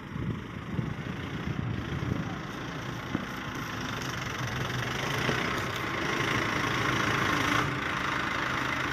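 A tractor engine idles steadily at a farm where tractors and trolleys are used for maize silage work, a continuous rumbling drone that holds level throughout with no voices.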